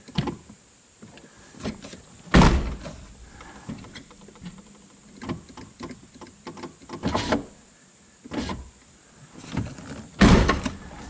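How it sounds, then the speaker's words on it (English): A car door pops open as the driver's-side power window rolls up, the door out of adjustment; clunks, rattles and a few sharp loud thumps sound close by amid a quieter mechanical whir. "The door pops open."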